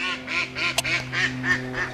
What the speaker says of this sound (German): Die Enten schimpfen uns.